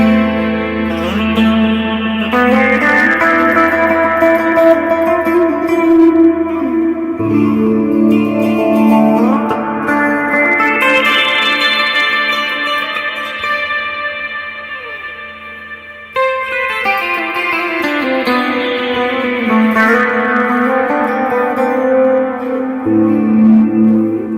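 An Ibanez Jem 70V copy electric guitar, played on the neck pickup through spacey Guitar Rig effects, rings out in sustained, heavily reverberant and echoing chords and swelling notes that keep a steady, fairly loud level with no talking.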